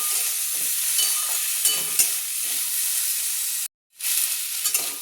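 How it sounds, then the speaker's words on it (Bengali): Vegetables with a small whole tomato stirred and fried in a pan give a steady close sizzle with scraping stir strokes, briefly cut off near the end before the frying resumes. "দিয়ে এবার আমি এটা একটু ভালো করে নেড়ে চেড়ে নেব"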